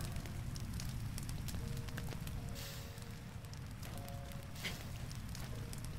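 Fire burning during rain in Zelda: Breath of the Wild, a dense steady crackling roar mixed with the wash of rainfall and a few faint chime-like tones, all fairly quiet and with no voices.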